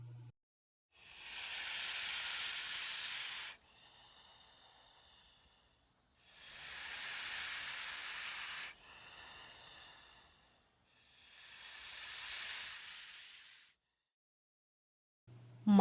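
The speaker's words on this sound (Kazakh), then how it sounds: "Жылан ысылдайды." A snake gives long, breathy hisses in a slow series of four: two loud strong bursts, each followed by a softer, shorter one. The hisses are close and otherwise quiet, with a faint click at the very end.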